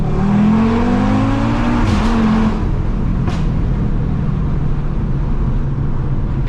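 A 570 hp Audi RS3 engine accelerates hard close by, its loud rising roar building over the first two seconds before settling into a steady, heavy drone.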